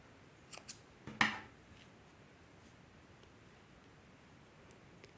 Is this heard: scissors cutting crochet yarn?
yes